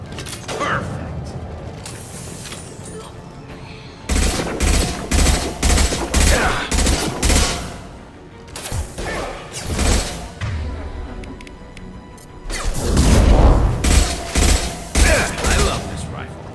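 Rifle fire in the Mass Effect 2 video game sounds in rapid bursts of sharp shots with mechanical clatter, in loud clusters separated by brief lulls.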